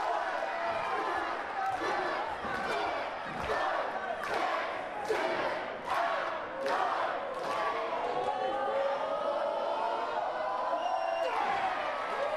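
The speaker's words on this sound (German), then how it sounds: "das Publikum hat mitgezählt" Wrestling crowd at an MWA show chanting along in rhythmic shouts as punches land, about ten loud regular bursts over a constant roar of the audience, with a commentator's voice over it.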